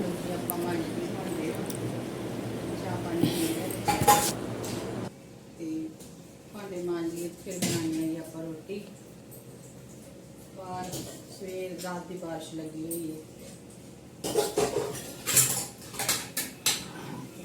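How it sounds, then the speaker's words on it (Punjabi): Dishes and pots clink and clatter in short, scattered bursts while someone talks intermittently nearby. "ਚਾਹ ਪਾਣੀ ਪਿਆ ਤੇ ਭਾਂਡੇ ਨੂੰ ਮਾਂਜ ਲਈਏ"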